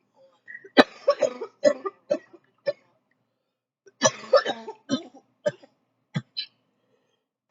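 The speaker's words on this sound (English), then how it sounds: "roaches always make me cough more than the damn trees" A person coughs repeatedly after smoking cannabis roaches, harsh close-up hacks and throat-clearing in two clusters of bursts separated by a short quiet pause.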